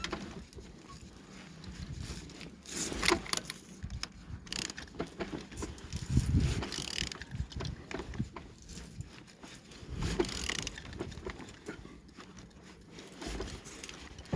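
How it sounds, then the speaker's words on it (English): Hand-turning of an L2V25 engine shows up as a series of irregular mechanical clicks, ratcheting and clunks, close and moderately loud, with no one talking. "Engine turning good compression."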